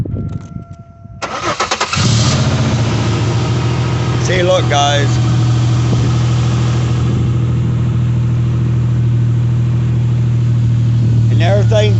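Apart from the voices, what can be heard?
car engine starting and idling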